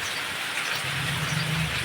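Heavy morning rain pours steadily over a Gir village in a dense, continuous hiss, with a low rumble rising underneath partway through.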